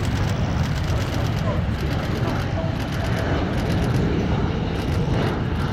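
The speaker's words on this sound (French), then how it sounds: "Alors que vous voyez le décollage de l'AWACS" AWACS aircraft taking off at Avord air base 702 during a September open day: a continuous, broad jet-engine roar that holds steady throughout, with faint voices in the crowd mixed underneath.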